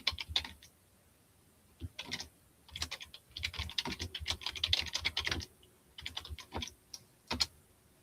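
Bursts of fast typing on a computer keyboard, close and fairly loud, with rapid clicky keystrokes in clusters separated by short pauses.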